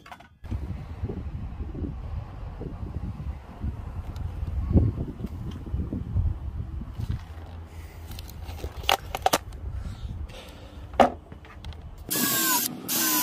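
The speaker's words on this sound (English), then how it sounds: "Plenty of power in this 20 volt drill driver." A 20 volt cordless drill driver with soft start and brake, fitted with a blunt countersink bit, drives screws into wood while fixing a sagging gate; low motor whine runs throughout, with clicks and a sharper high burst near the end.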